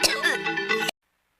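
A single short, harsh cough close up, voiced and throaty, ending abruptly into silence.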